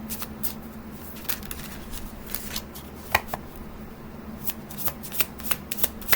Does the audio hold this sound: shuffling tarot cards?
yes